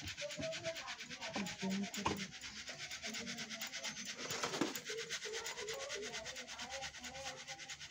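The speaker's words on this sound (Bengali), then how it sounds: "তারপর এটাকে আরো চালুনি দিয়ে চালতে হবে।" Ground palm semolina is sifted through a sieve by hand, giving soft repeated rubbing and scraping swishes in a quiet kitchen.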